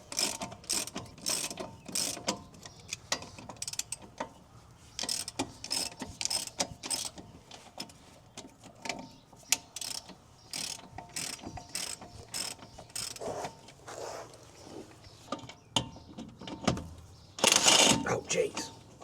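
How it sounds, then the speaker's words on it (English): Ratchet clicking as strut bolts are removed from a 2017 GMC Yukon during a suspension level kit install, with rapid bursts of close ratcheting spread across the clip and a louder burst near the end. "now we're going to remove these 2 strut bolts."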